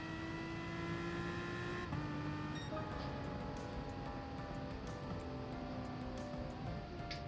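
Race cars at the Red Bull Ring in GT Sport drone with a steady high engine whine, shifting pitch at gear changes and corners, while other cars pass faintly in the background, with no talking.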